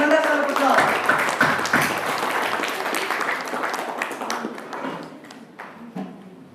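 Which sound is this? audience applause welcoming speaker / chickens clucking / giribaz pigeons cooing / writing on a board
audience applause welcoming speaker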